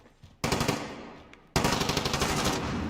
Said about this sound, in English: COD now switches over to the SA-87 after a successful headshot.